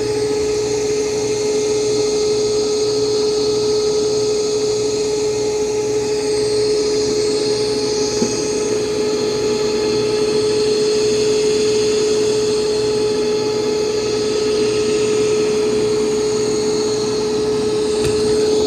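A steady, close mechanical whir with a constant high tone runs without a break as an iRobot Roomba Plus 505 Combo robot vacuum works across carpet.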